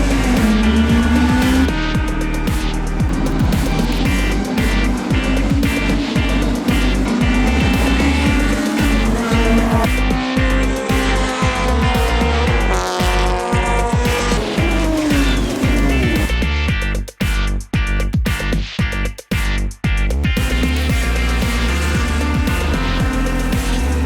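Honda Cup race cars lapping Hampton Downs circuit in New Zealand during a handicap race, engines revving loudly and continuously through gear changes, with rapid sharp bursts of engine noise as cars pass close by near the end.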